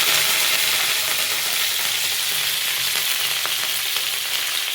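Mustard and cumin seeds with curry leaves spluttering in hot oil, a steady close sizzle with scattered sharp pops throughout, no voices.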